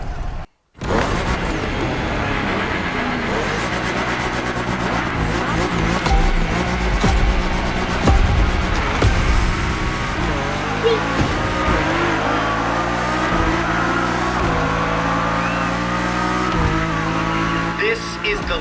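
Audi and BMW cars, including a BMW M4, race in a video game, engines droning and revving steadily with tire noise under a thick layer of music and game sounds throughout.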